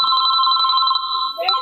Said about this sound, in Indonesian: Ada yang nelfon.